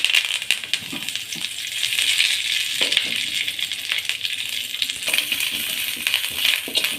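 Curry leaves crackle and rattle as they are dry-roasted in a pan for idli podi, with close, busy sizzling and scraping stirs that continue throughout and no one talking.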